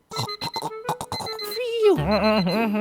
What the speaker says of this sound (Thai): อ๋อเช้าแล้วเหรอโอ้ยนาฬิกาปลุก